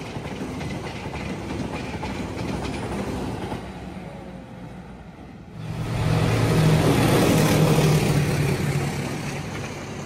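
A train on the KA Lodaya or KA Pasundan line in Indonesia rumbles past on the rails, its steady rolling noise growing louder and heavier partway through, with faint rhythmic clatter.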